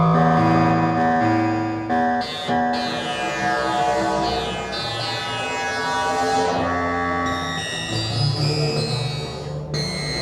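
Bright, bell-like FM synthesizer tones with shimmering metallic overtones and sweeping pitch glides, playing continuously and fairly loud.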